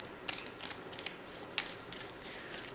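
Tarot cards shuffled by hand in a quiet room, a close, soft, continuous riffling and flicking with small crisp snaps, no talk.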